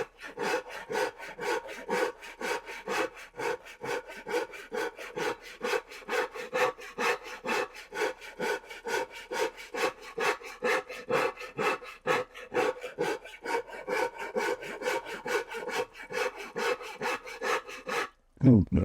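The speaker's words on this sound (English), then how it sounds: "Start shaving that down a little bit and get a nice curve in here" A wooden electric guitar body being shaved down by hand, a steady run of rhythmic rasping strokes, close and loud, continuing without pause for most of the span before stopping abruptly near the end.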